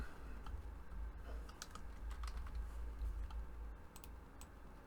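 Quiet typing on a computer keyboard, scattered light key clicks in short bursts over a low steady hum, with no talking.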